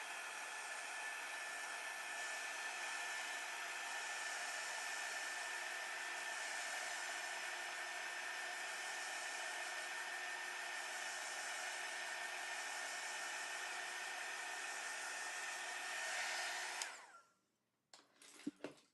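A hair dryer runs in one long, steady whoosh to dry fresh paint, held close and constant for about seventeen seconds before it clicks off, leaving near silence and a few faint handling knocks.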